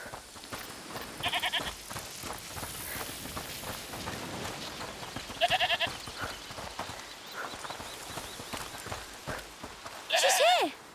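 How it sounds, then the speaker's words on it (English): Goat bleating in the video game A Plague Tale Requiem, short wavering bleats at a few moments over a constant low game ambience, with people talking across the scene. "Listen, is that the goat he talked about?"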